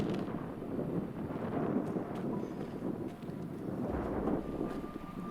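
Wind gusting across an open cemetery, a steady broadband rush that swells and eases in gusts, buffeting the microphone with low rumble throughout, no voices.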